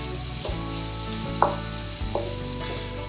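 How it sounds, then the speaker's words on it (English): Celery and onions sizzle in melted butter in a cast iron skillet over medium heat, a steady close frying hiss broken by a few soft stirring scrapes, with no talk. "melt the butter in a cast iron skillet over medium heat and add the celery and onions"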